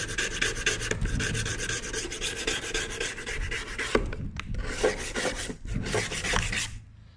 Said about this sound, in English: I'm gonna see how well it works with using the random orbiting sander on it